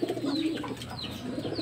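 Young pigeons coo softly in a loft with low, throaty murmurs and a few faint chirps, close by and unbroken, with no talk over them.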